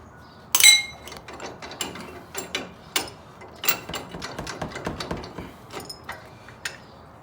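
Sharp metallic ratcheting and clinking from tools working on the upper ball joint of a 2500HD truck, with a loud clank near the start followed by a rhythmic series of close clicks.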